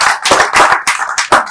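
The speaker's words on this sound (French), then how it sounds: "Acclamons." Applause breaks out at a funeral ceremony for a respected elder, with several bursts of crowd clapping rising and falling in waves, loud and close.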